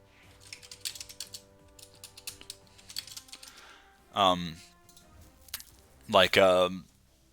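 Clicky keystrokes rattle on a computer keyboard in quick irregular bursts as a chat reply is typed during an online Pokémon card match, broken by two short loud voiced sounds.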